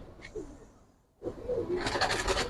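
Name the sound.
military pigeons cooing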